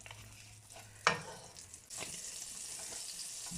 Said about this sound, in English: my pot is hot. I'm gonna add some butter